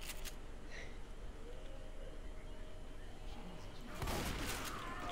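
Gunfire in the zombie shooter Left 4 Dead 2: a dense, steady crackle of shots runs throughout, swelling into a louder, heavier burst near the end.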